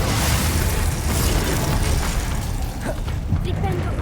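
The Confringo spell explodes in the video game Hogwarts Legacy, a loud, dense booming blast that fills the whole stretch, with rumble and crackling debris.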